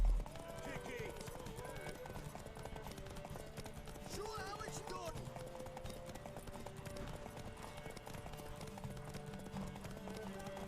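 Horse hooves clip-clop steadily in The Witcher 3: Wild Hunt game, a quiet continuous trotting rhythm under game music and voices.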